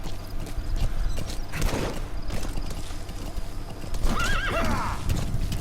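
A horse in Metal Gear Solid V: The Phantom Pain gallops with steady clip-clop hoofbeats, loud and close, then gives a sharp rising neigh near the end, with no talk over it.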